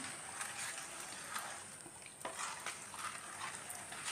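Milk and rice flour are stirred together for a patishapta pitha filling, giving quiet, steady swishing and light scraping with a few soft taps. No speech is heard.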